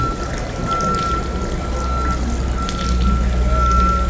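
Water pours steadily from the Fuente Agria, a famous sour-tasting fountain with rust-stained stone, splashing continuously outdoors with a steady tone audible over the rush; faint voices sit in the background.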